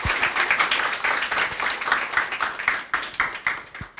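Loud, dense applause from a crowd, sustained clapping that swells and dips, with brief gaps near the end.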